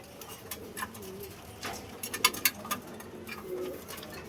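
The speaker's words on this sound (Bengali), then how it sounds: "এই যে নিচে অনেক কবুতর আছে" Many pigeons gathered below make soft, low cooing calls, faint and a little distant, with scattered rustles and a few brighter clicks over a quiet background.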